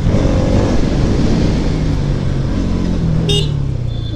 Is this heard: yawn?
no